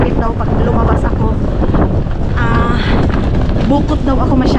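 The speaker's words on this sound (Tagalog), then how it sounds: "mahangin masyado" Strong wind buffets the microphone outdoors in stormy, typhoon-like weather, a loud continuous roar with someone talking over it.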